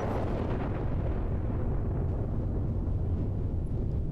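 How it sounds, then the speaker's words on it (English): In the Roguetech mech combat game, a mech's ammunition cooks off in a heavy explosion, a loud sustained roaring blast with a deep rumbling tail that fills the whole stretch. "Guess that was an ammo explosion."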